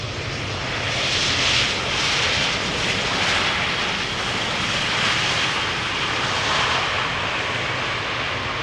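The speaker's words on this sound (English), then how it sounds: "Flight 22515, an A319 EasyJet, 190 nautical miles." Steady, loud roar of an EasyJet Airbus A319 jet arriving at Amsterdam Schiphol Airport, a broad rushing engine noise that holds constant throughout with slight swells, no voices.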